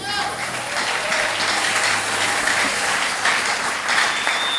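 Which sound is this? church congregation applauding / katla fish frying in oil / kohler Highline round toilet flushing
church congregation applauding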